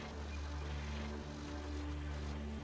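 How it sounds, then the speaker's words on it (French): A steady engine drone that sounds like an aircraft propeller in Dead Island 2. It holds even and continuous throughout with a low humming tone and no speech. "Il y a une espèce de bruit de moteur là depuis tout à l'heure qui me perturbe."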